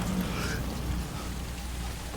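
Steady rainfall in the video game Death Stranding, a continuous even hiss of rain with a low rumbling undertone, moderately loud and unbroken, with no voices over it.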